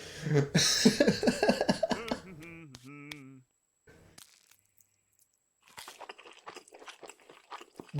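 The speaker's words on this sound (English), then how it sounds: "The chewing noises don't sound like it's the same guy. It sounds like he's eating gravel." Someone chews crunchy food close to the mic in a food video, with bursts of loud crunching at the start and end, a near-silent pause between them, and brief vocal sounds early on.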